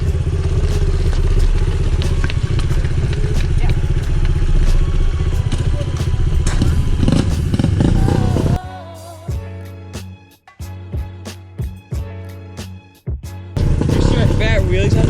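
A pit bike's small engine revs loudly and continuously while being ridden, dropping into choppier bursts and thumps midway before picking back up, with people talking over it.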